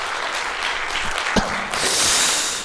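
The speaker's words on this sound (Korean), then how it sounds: "박수 한번 크게 쳐주세요." Congregation applause at a Korean church Sunday service, clapping that swells into a brighter, fuller burst in the second half.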